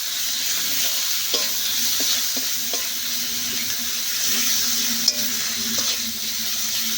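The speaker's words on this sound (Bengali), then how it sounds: "এবার বেশ ভালো করে মশলাগুলো কষে নেব" Ground ginger, cumin and coriander paste fries and gets stirred in a pan, a steady loud sizzle with occasional scrapes and taps from the utensil throughout.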